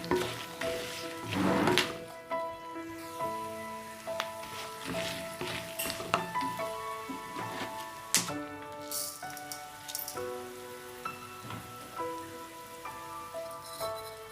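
Chana dal and urad dal fry in oil in a pan with a soft, steady crackling sizzle. Background music plays over it, with occasional clatter from a utensil.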